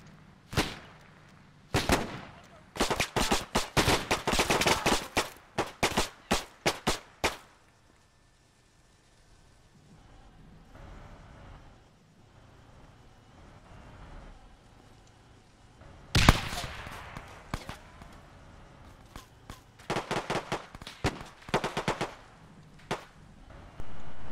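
A machine gun team fires in the Arma 3 World War II campaign set in Italy 1943, delivering loud rapid bursts of automatic gunfire with pauses, a quieter lull in the middle, then more bursts and single heavy reports.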